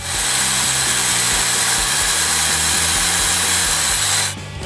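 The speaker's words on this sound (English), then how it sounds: "Basically what I am doing is just drilling the plug out from around the screw." A power drill whirs steadily and loudly, its pitch wavering as it bites into wood, drilling out the plug around a rusted screw, then cuts off abruptly near the end.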